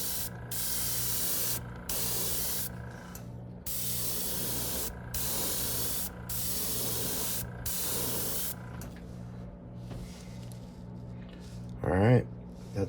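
An airbrush sprays paint in a rose pattern on a smallmouth bass fishing lure, repeated steady hissing bursts with short gaps, close and loud, someone talking quietly beneath, fading toward the end.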